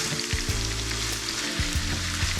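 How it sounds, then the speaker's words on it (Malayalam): Onions, ginger and garlic sauté over a low flame in a pan for kaada biryani, an even crackling sizzle with occasional dull stirring thumps, close up and without any talk. "ഇതെല്ലാം കൂടി ഇട്ട് കൊടുത്ത് ഒരു 10 മിനിറ്റ് നേരം കൂടെ വഴറ്റിയെടുക്കണം"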